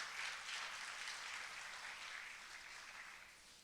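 A church congregation applauds during a sermon, a faint, dense wash of many hands clapping at once that holds steady and then tapers off slightly.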